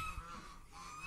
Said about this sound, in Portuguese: É os gansos.